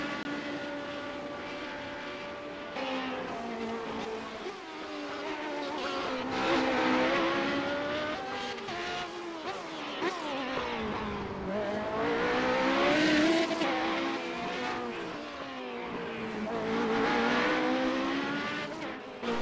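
Race cars, including a yellow Radical, lap the Long Beach circuit in a racing game, their engines whining through rising and falling revs as they shift and brake, loud and continuous.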